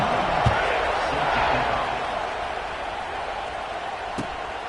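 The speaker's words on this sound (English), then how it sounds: "this crowd is buzzing after that last score" Stadium crowd noise in the NCAA 26 college football video game, a broad steady roar that swells and fades slightly after a score, with a couple of sharp thumps near the start and end.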